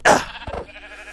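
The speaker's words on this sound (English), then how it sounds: "Hello, sheep." A sheep in the Minecraft VR video game gives a short, close bleat, loud at the onset and quickly fading, followed by a fainter second murmur.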